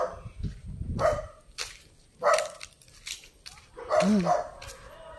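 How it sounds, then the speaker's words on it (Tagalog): A dog barks several times in short, separate bursts, close by, with a few softer yips between the barks. "Ay, may aso ka."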